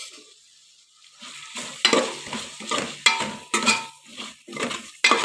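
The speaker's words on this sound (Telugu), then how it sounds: "కొత్తిమీర వేసి బాగా ఫ్రై అవ్వనిద్దాం" Coriander and mint stir-fry in a pan of curry with steady sizzling, while a spoon scrapes and clatters against the pan in repeated strokes, close and fairly loud.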